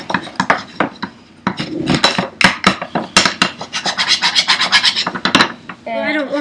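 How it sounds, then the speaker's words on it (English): A hand file rasps across a drilled project piece to smooth away drill-hole marks, making rapid, loud, rhythmic scraping strokes up close, followed by a short squeak at the end. "So I am using this tool to sand it down or file it."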